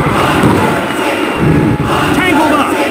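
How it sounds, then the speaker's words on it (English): A loud wrestling arena crowd in WWF Attitude on Dreamcast roars and cheers continuously, a dense wall of voices with occasional thuds, close and sustained throughout. "This crowd is going berserk!"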